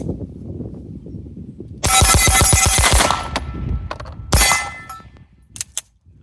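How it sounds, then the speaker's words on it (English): Ten rounds of 9mm fire rapidly from a Masterpiece Arms DS9 Open Comp pistol in a fast string of loud, sharp cracks, followed by a few clanks and a couple of scattered impacts. "Those 10 shots did go through perfectly fine"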